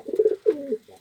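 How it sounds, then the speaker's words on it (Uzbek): Takla pigeon in Samarkand cooing up close: two drawn-out, throaty coo phrases in quick succession, then a softer trailing coo, with no other sounds around. "Mana qushni qarab turibmiz."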